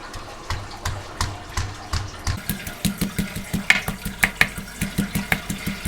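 Garlic, green chillies and shallots pounded in a mortar, a close rhythmic series of heavy thuds that starts sparse and settles into a quick even beat, with occasional sharp clinks, no talking.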